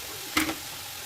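Cabbage and carrot dropped into a hot pan, a single sharp sizzling burst that quickly fades into a quiet background hiss, close and with no voices.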